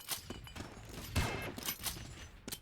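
Rapid gunfire bursts in a competitive first-person shooter match as two players get fragged at once, a rattling fusillade of repeated shots at moderate level with a few sharper cracks.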